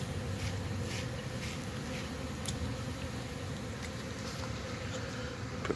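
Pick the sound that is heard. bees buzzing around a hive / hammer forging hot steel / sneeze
bees buzzing around a hive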